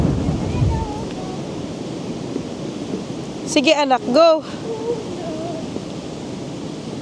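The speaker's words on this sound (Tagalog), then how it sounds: "Ang hangin." Steady outdoor wind rushes as a broad, continuous roar throughout, with a short burst of voices near the middle.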